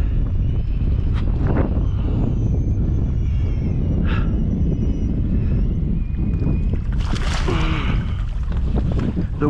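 Strong wind buffets the microphone over open water during kayak fishing in a mangrove backcountry, a constant loud rush with faint water lapping.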